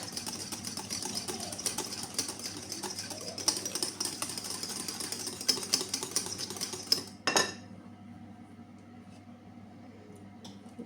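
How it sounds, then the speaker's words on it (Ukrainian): Waffle batter with butter is beaten in a bowl: a fast, steady scraping and whisking rattle close by that stops abruptly near the end, leaving a quiet room. "додала масло, гарненько це все перемішую"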